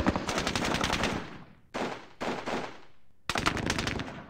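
Automatic gunfire in a Falklands war strategy game set during a night assault on Wireless Ridge, rapid machine-gun bursts crackling loud and dense, with a brief lull before further volleys.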